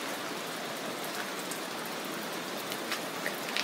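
Steady rain falls in Minnesota, a continuous broadband patter with scattered nearer drops, fairly faint and even throughout, with no voices.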